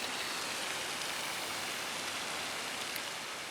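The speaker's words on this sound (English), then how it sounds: "Rain's on and off, spitting here and there." Light rain falls over an outdoor cotton farm as a steady, even hiss of fine drops, continuous and unbroken with no voices.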